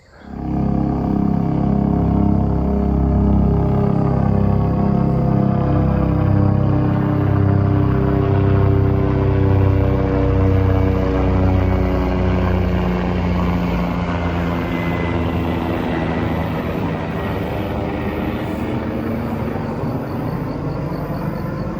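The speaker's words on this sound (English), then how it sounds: "Not every day you get to fly over by a helicopter while you're unloading bees." Helicopter flying overhead at a bee yard, a loud sustained rotor roar and whine that swells and slowly shifts in pitch as it passes.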